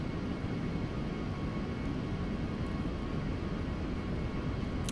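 An A320 jet in the Aerofly FS Global flight simulator on iPad, starting its takeoff roll with a steady, dense engine roar that holds at an even level throughout.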